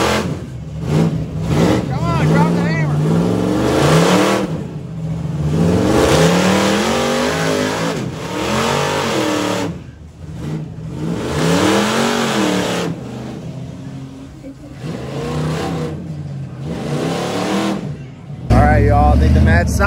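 Monster truck engines rev loudly during a grudge tug-of-war event, rising and falling in repeated surges with a rough roar, while an announcer's voice talks over much of the noise.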